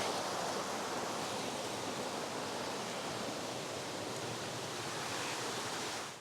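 A waterfall on Richey Ridge Falls along the Cumberland Trail pours into the creek below, a dense, steady rushing roar that fills the clip without pause, close and loud, with no voices.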